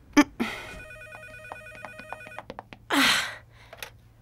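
A telephone rings indoors in a French drama, with repeated electronic trills between softer clicks and short noisy bursts, and no one talking over it.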